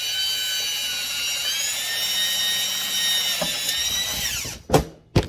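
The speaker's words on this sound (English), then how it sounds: "I'm going to go ahead and drill one here." A power drill runs steadily at high speed while boring into a homemade lamp shade for a vintage trailer, its whine sliding lower as it loads up, then stopping, followed by two sharp knocks.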